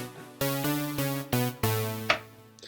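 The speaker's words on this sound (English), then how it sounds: "It's a preset here in Logic Pro X and it sounds like this." The 80s Polysynth preset in Logic Pro X plays a handful of bright synth chords, each struck cleanly and held briefly in an uneven rhythm, then a final short stab, heard alone and fairly quiet.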